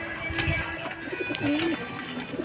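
Soft pigeon cooing rises and falls in low warbling calls, mixed with someone talking nearby and general background bustle.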